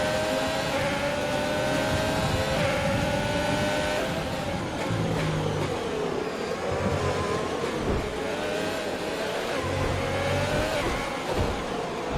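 F1 2020 video game race car engine shifting up through the gears, loud high-pitched revving that climbs and drops with each upshift, continuous and close with no talk.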